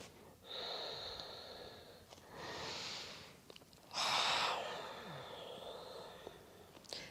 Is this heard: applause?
no